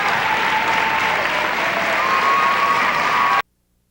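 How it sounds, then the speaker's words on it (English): Wolverine fans at a 1992 Class C high school volleyball final cheer and applaud in a gym, a steady, loud crowd roar with clapping that holds throughout and then cuts off abruptly. "You see the Wolverine fans cheering"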